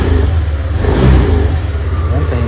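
A stock Yamaha Aerox scooter running on Zic oil revs steadily up close, its engine note loud and continuous with a slight swell near the middle.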